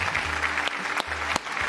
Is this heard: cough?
no